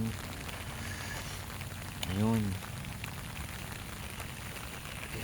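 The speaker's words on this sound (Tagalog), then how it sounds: "malakas ang ulan heavy rain" Steady heavy rain hisses throughout, loud and constant, with a brief voice rising over it partway through.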